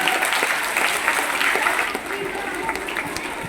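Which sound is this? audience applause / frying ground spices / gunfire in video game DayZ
audience applause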